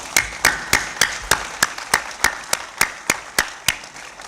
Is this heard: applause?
yes